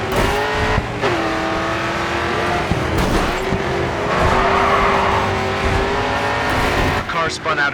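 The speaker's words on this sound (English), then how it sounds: "The car spun out ahead of you." Race car spinning out in GRID 2, with a loud sustained engine drone, tire squeal and skidding swelling mid-clip over constant racing noise.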